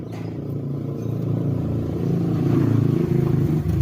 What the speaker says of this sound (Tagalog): Nandito tayo sa tabi ng kalsada, Kajimar, kaya maingay.